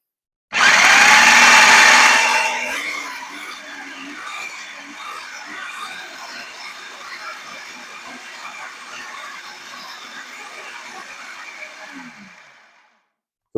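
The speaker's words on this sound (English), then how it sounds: "we put all of that into the food processor" A food processor grinds olive tapenade ingredients into a paste. It starts with a loud, high-pitched whir that eases after about two seconds into a steady, quieter grinding drone, then cuts off near the end.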